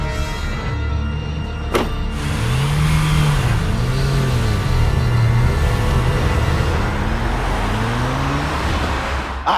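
A car's engine turns over and revs as it pulls away, rising and falling through gear changes, fairly close and steady with a sharp click near the start.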